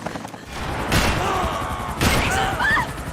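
Gunfire in the Max Payne 3 video game, bursts of dense automatic shots crackling in two main volleys, layered with game voices shouting and a faint whistling tone.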